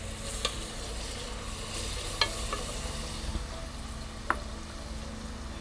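Spring onions are stirred into a sizzling lamb sauce for jollof rice, giving a constant frying hiss with a few sharp scrapes of a spoon against the pot.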